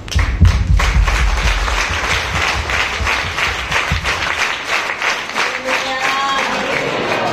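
A large church worship crowd claps loudly and continuously, the applause dense and near, thinning slightly toward the end as a faint tone rises beneath.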